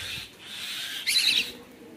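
Birds call at a pigeon farm where chicks are kept: a thin, sustained high call, then a brief, brighter burst of chirping, all close and moderately loud, with no voices.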